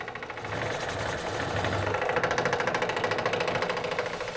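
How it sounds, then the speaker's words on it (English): A power drill whirs steadily, its motor shifting into a rapid pulsing chatter as the bit bites into steel on a Nissan Frontier; no voices. "It's a good idea to lubricate with a little oil when drilling through steel."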